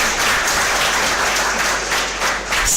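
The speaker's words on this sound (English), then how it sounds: "A huge round of applause." Loud, dense audience applause at an inauguration event for a postgraduate management programme, many hands clapping together close by, continuous with no voices.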